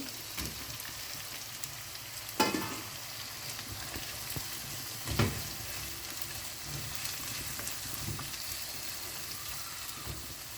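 Ingredients for gongura chicken sizzle steadily in a hot pan, a constant crackling hiss with a couple of louder clatters of stirring, close up and without talk.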